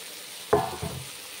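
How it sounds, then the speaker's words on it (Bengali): Fried onions tipped into a hot kadai while cooking bora posto give a short, close sizzling splash, followed a moment later by a smaller second burst that quickly fades. "হয়ে গেছে পেঁয়াজ ভাজা, কড়াইয়ের মধ্যে এখন ছেড়ে দিচ্ছি আমি"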